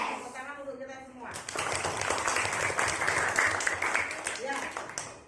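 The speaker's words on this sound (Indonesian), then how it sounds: "Tepuk tangan untuk kita semua." A class of primary school children claps together after a spoken greeting, steady dense applause rising and holding, with talking before it.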